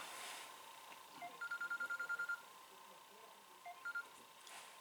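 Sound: telephone ringing during a lecture

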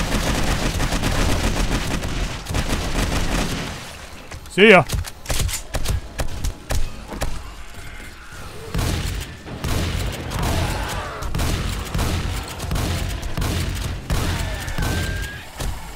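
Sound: gunfire in the video game 7 Days to Die

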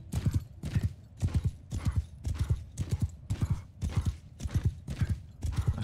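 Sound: horse hooves galloping in video game Mount and Blade 2 Bannerlord

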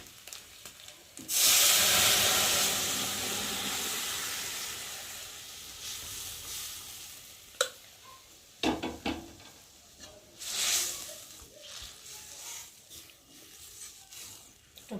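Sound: chana dal poured into pan of fried ginger and cumin, sizzling

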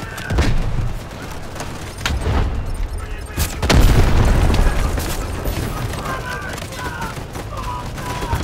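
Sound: artillery explosions in video game Delta Force

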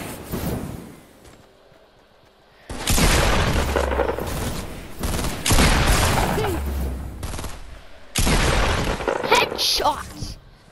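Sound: gunshots in a video game

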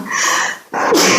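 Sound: sneeze

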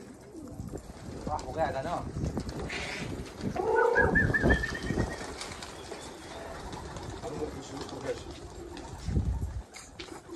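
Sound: pigeons cooing

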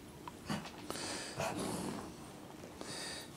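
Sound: dog Lily growling

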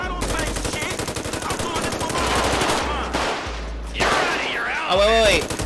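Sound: gunfire in GTA 5 video game shootout

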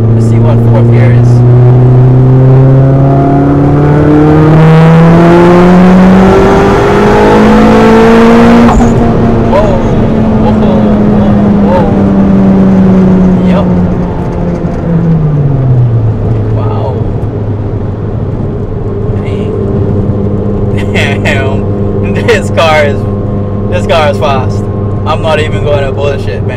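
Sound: 500HP Mitsubishi Evo X accelerating through fourth gear

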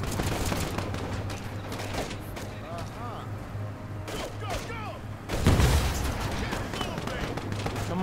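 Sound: rapid gunfire in video game War Alert WWII

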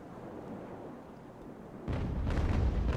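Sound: sailing ship cannon fire in the video game Ultimate Admiral: Age of Sail

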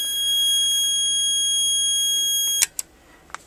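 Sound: Monaco Vulcan fire alarm control panel alarm sounding

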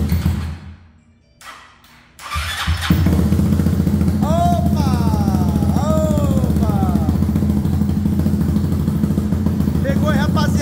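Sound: 160 motorcycle engine starting and revving

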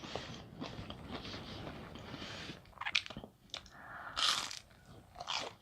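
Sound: biting and chewing crispy fried shrimp tempura

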